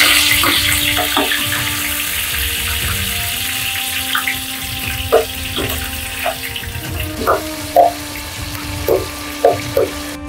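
Tomatoes frying in hot oil for an aloo tomato curry give a steady, dense sizzle that runs throughout, with a few brief clinks and tonal blips rising above it.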